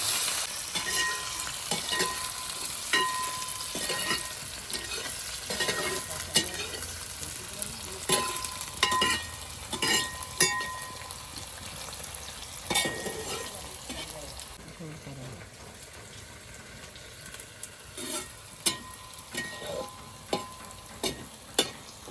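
Small shallots fry in hot oil in a home kitchen while a Kerala chicken chinthamani is prepared, giving a steady, soft sizzle. A spoon stirs and clinks against the pan at intervals.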